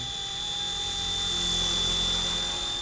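A small Rage RC Hero Copter model helicopter hovers close by at eye level, its high, steady whine and buzzing rotor drone holding a constant pitch throughout.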